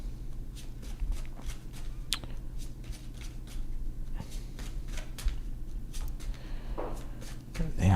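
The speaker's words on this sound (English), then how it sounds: "I'm fucking shuffling the shit out of these cards." A deck of cards being shuffled in repeated riffles and flicks throughout, close and moderately loud, over a low steady background hum.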